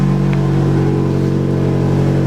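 A Nissan SR20 engine held at a steady rev with an exhaust rattle, a loud, close, continuous drone with no talk over it.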